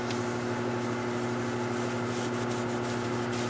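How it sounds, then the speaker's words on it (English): Oak burl being sanded on a wood lathe, a steady, even rushing hiss over a constant motor hum, close and unbroken throughout. "when I was sanding, I also used my Sandoflex"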